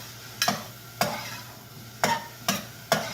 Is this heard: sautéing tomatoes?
yes